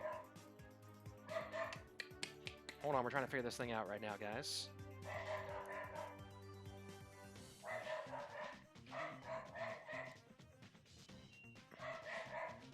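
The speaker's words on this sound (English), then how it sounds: "What is my dog barking at? The mailman?" A pet dog yips and barks in quick bursts behind a voice playing over music and game sounds, the barks mid-distance and partly masked by the talk.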